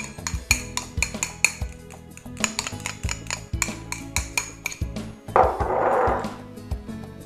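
Chopped mortadella and potatoes being mixed in a bowl, with a steady run of close clinks and scrapes from a utensil against the bowl, then a brief louder rough stirring burst near the end.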